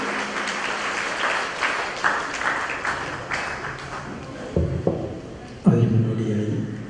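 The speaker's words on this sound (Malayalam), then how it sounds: "നല്ലൊരു കൈയടിയോടുകൂടി തന്നെ നമുക്ക് സ്വാഗതം ചെയ്യാം." Audience applause greets a guest welcomed onto the stage at a palliative hospital inauguration, a broad steady patter lasting several seconds at moderate distance, with a few louder bumps and sounds of movement near the end.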